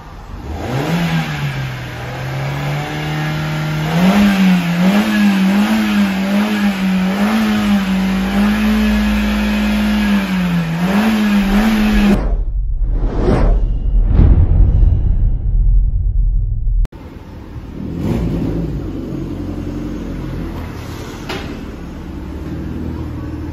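A car engine that burns oil revs up and down repeatedly in a wavering pattern, then sharply blips the throttle a few times close by before the sound cuts to a quieter idling background.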